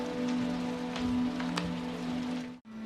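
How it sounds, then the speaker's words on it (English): Rain falling outside during a storm, a steady patter heard from indoors alongside a humming tone, cutting off abruptly near the end. "it's just a little rain"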